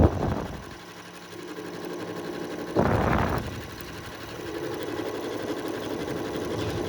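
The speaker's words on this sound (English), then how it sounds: "your machine allows you to go in reverse on a 3-step zigzag" A sewing machine stitches a 3-step zigzag over a worn hole in jeans, a steady mechanical whir running throughout with a brief louder burst near the middle.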